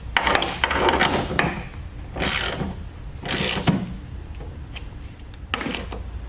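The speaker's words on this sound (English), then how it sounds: "now we'll go ahead and continue tightening the hex nuts" A ratchet wrench tightens hex nuts on a pool pump bearing block, giving close, loud runs of rapid clicking ratcheting with a few heavier metallic clunks and scrapes in between.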